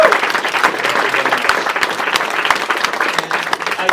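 Convention audience at a New York Comic Con publishing panel bursts into sustained applause, dense steady clapping from a large crowd filling the room for several seconds without speech.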